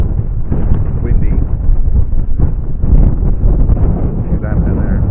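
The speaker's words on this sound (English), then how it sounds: "Windy." Gusty wind roars across an open campsite in the Yorkshire Dales, a steady heavy buffeting with louder surges throughout.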